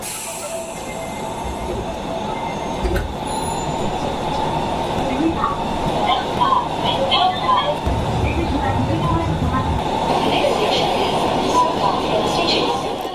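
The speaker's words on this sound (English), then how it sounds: "We're on board of Osaka's subway." An Osaka subway train rumbles steadily along the tracks with rattling and faint squeals, heard from inside the car, with voices murmuring underneath.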